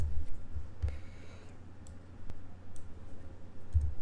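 Mouse clicks on a computer running QM for Windows software, a few short sharp clicks spaced apart over a low steady background hum, with no talking.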